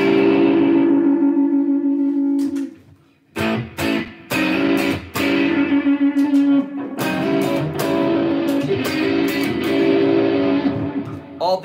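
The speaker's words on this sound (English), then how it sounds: "we want to use the right amount of overdrive for the song" An electric guitar with overdrive runs through an effects processor, strummed chords ringing loud with echo and reverb, broken by short pauses and sharp choppy stabs before sustained distorted strumming resumes.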